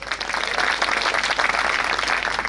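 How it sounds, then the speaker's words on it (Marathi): Men in a crowd at a Harinam devotional gathering applaud for the women, a dense, loud, continuous burst of clapping from many hands without pause, no speech over it. "यानंतर सगळे पुरुष टाळ्या वाजवतील महिलांसाठी"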